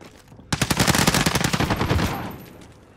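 A loud, close burst of rapid automatic gunfire in the video game Modern Warfare battle royale rattles for about a second and a half after brief quiet, then tails off into an echoing decay.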